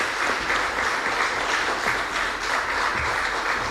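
A large audience at a community impact meeting breaks into steady, dense applause that holds at an even level throughout, a continuous wash of clapping heard from a short distance.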